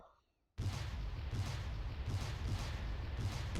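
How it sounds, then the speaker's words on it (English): Mortar fire in the World War II strategy game Steel Panthers: after a quiet start, a sudden loud burst of booming impacts and rumbling explosions rolls on continuously, with several repeated thuds. "Here comes my mortars then."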